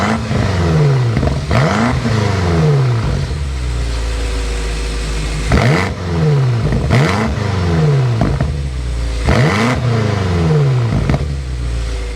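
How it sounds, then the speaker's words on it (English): Twin-turbo V8 of a 2024 BMW M8 Competition coupe fires up and revs, its loud, close exhaust note rising and falling in several sharp throttle blips over a steady rumbling idle. "start it up so you can hear that exhaust note"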